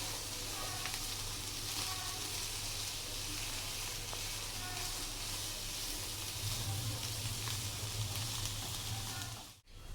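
Capsicum and onion frying on a medium flame, a quiet, continuous sizzle with a low background hum that cuts off abruptly at the end.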